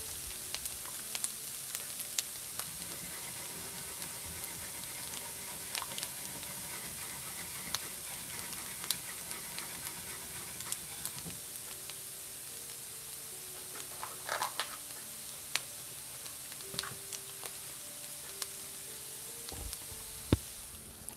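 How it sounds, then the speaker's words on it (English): Chanterelle mushrooms dry-frying in a pan, giving a steady sizzle with scattered small pops and ticks throughout, close and fairly quiet, with no talk. "So I really like the dry fry method. It's a good way to cook all that water out."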